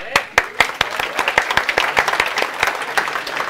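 Students in a lecture hall clap, starting with a few sharp separate claps and building into quicker, denser applause from the room, with some voices faintly underneath.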